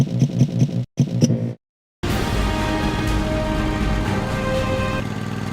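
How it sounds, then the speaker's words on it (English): A tractor drives around a racetrack in the Lego Star Wars video game. After a short, choppy burst and a moment of silence, a steady whirring engine drone holds loud and close. "you can build an even faster vehicle to test the track. A tractor!"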